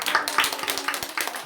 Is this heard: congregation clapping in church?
yes